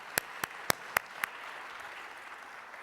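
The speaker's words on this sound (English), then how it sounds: "ask you again for an applause, this time for the Goi Peace Foundation" Five sharp, separate claps spaced evenly over about a second, fairly close and distinct, then only faint room tone; sparse applause at a youth forum cultural evening.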